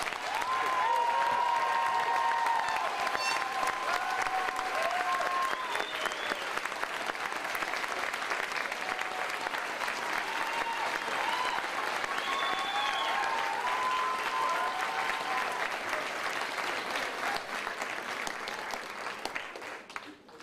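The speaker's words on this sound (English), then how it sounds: "Let's give our master students a round of applause." Sustained, steady applause from a large audience at a nursing school commencement for master's graduates, a continuous wash of clapping lasting about twenty seconds before fading.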